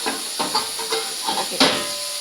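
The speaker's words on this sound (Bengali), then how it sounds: "চিংড়ি তো অত ভাজতে হয় না মোটামুটি ভাজবো" Prawns frying in a pan, a loud close hiss of sizzling oil with bursts of crackle and a sharper flare near the end, no speech over it.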